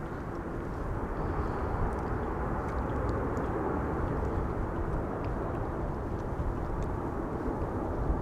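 Airplane arriving at Amsterdam Schiphol Airport in windy weather, a steady broad jet roar holding at constant loudness from a moderate distance, with no other sounds over it.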